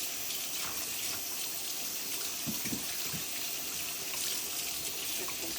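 Tap water runs steadily into a sink while poblano peppers are rinsed underneath, a soft continuous gush with light splashes, no talk.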